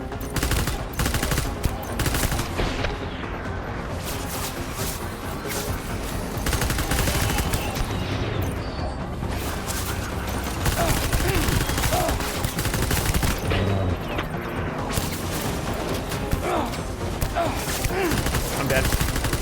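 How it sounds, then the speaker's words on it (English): Non-lethal assault rifle fire in the video game Death Stranding, loud continuous bursts of rapid shots with dense clatter and impacts, heavy game action and effects throughout. "Non-lethal assault rifle."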